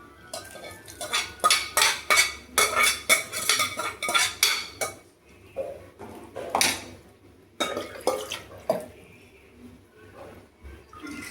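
A metal pot and ladle clatter and scrape in quick, uneven bursts as cooked pulses go into a curry, loud and near, with brief quiet gaps between clusters of knocks.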